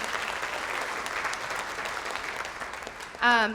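Workshop participants applauding themselves at a community campus discussion: a steady wash of crowd clapping, moderately loud, with a voice cutting in briefly at the very end.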